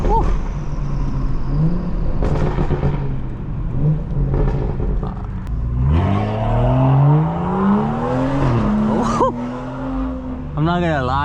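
A BMW 435 engine revs hard through an acceleration pull, its pitch climbing in long, loud sweeps with a shift-like dip near the end, while a voice murmurs faintly underneath.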